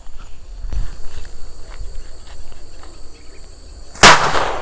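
A small homemade paper firecracker, packed with leftover powder scraped from matchheads, bursts once with a sharp nearby crack after a few seconds of quiet rustling outdoors.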